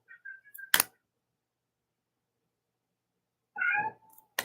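A cat meows twice, drawn-out and close, separated by silence, with sharp clicks like a camera shutter after each call.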